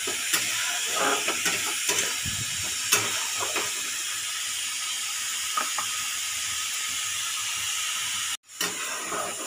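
Bitter gourd curry paste thickens over a high flame, a continuous hiss and sizzle with scattered spatula scrapes and clicks, then a sudden brief drop near the end before the sizzle returns.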